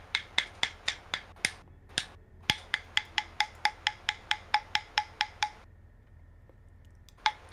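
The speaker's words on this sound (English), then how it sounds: "I still have my very original bachis that I used back in the day" Old, worn, dusty wooden ukulele bachi plectrums tap out a quick run of sharp, bright clicks in a steady rhythm, close and clear, with a short pause near the end before a few more strikes.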